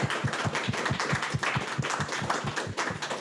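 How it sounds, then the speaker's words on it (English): Audience clapping at the close of an evening philosophy lecture, with steady rhythmic claps from a small crowd, fairly close and even in level, and no talk over them. "let's give a round of applause for Professor Shields."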